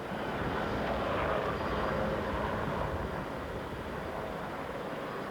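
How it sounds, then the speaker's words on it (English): Aircraft performing aerobatics over Sydney Harbour, a broad continuous engine roar heard from a distance, fairly faint and steady without talk. "Others just revelled in the aerobatic power of their flying machines."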